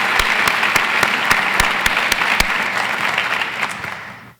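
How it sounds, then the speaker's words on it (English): Sustained audience applause fills the hall at a university State of the University address, dense and steady for about four seconds before cutting off abruptly. "Let's applaud her and celebrate another significant step forward for this university."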